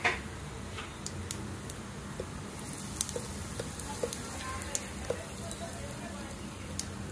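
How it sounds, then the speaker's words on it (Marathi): Spices crackling in hot oil for a tadka while cooking undhiyu with stuffed brinjals, a faint steady sizzle scattered with small sharp pops and ticks, heard close and alone. "हे बघा चांगलं फोडणी झाली आहे"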